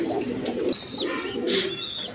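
Big, high-quality pigeons, a male and a female, coo steadily from a cage at close range, with soft chirps breaking through.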